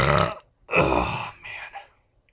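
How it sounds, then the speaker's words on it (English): A loud, close, drawn-out burp after eating a lot of candy, coming in three gravelly pushes, the middle one longest and the last shorter and weaker. "when you burp after eating a bunch of candy, it always tastes really weird"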